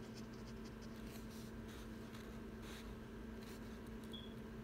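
Pencil writing answers on paper during a statistics lesson on mean, median, IQR and MAD, faint scratchy strokes in short bursts over a low steady hum.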